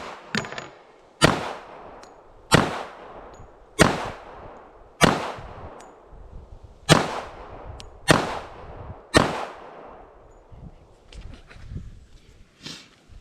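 About nine sharp, loud gunshots from a Kimber 1911 Custom II LW Nightstar pistol fired outdoors in freezing Michigan cold, spaced one to two seconds apart with echoing tails and no talking.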